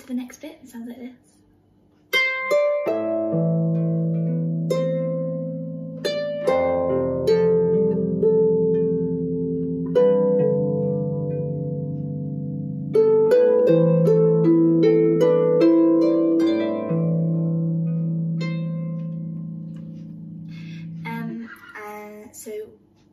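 Manx harp playing a lesson tune, a sustained run of plucked, ringing notes with bass and melody lines overlapping, steady and close for over twenty seconds without talking.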